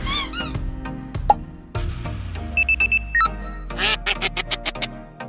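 A duck on a street in Erfurt, Germany quacks in short, squeaky bursts, a run of rapid nasal calls close by with brief pauses between them.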